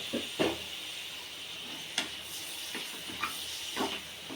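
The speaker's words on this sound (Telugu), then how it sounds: "ఇప్పుడు ఈ స్టేజీలో టమాటా ముక్కలు వేసుకుందాం." Tomato pieces are dropped into boti (goat tripe) curry cooking in a pan over a low flame, giving a soft steady sizzle and hiss with several sharp clinks and stirring knocks spaced through it.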